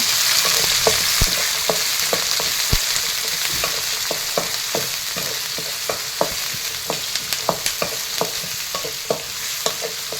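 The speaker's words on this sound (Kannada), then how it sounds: "ಮೂರು ಈರುಳ್ಳಿ ಹಾಕ್ಕೊಂಡಿದ್ದೀನಿ ಈರುಳ್ಳಿ ಮುರ್ಕೊಳ್ಳೋಣ" Three onions fried in a pan with a couple of curry leaves for vangi bath, giving a steady, close sizzle broken by frequent light clicks and taps of stirring, with no talking.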